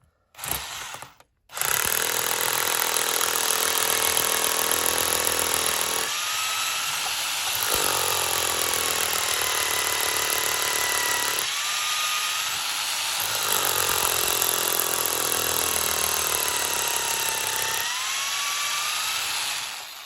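A power drill bores into a manhole hatch over a sewage pit, whining loud and steady in long continuous runs, each pass pitch-sliding slightly as it bites, with brief pauses between bursts and no talk.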